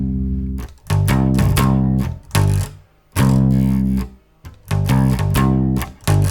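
An electric bass plays a pre-chorus riff, a low bouncing line of loud, close notes in repeated phrases with brief gaps between them.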